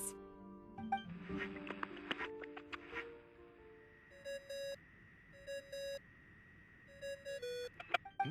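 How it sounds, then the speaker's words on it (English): A phone ringing tone in the video game Genshin Impact sounds as a quiet pattern of short repeated electronic beeps in pairs, coming back at regular gaps after a softer flurry of chiming tones at the start. "I really hate that ringing tone."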